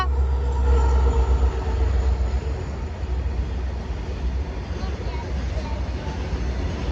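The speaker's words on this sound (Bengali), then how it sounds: "তো দেখতে পাচ্ছ ফাইনালি চলে এসছে ট্রেনটা" A train arriving at Ghoksadanga railway station, a loud, steady low rumble and rolling rattle of wagons nearby, filling the whole stretch with continuous noise.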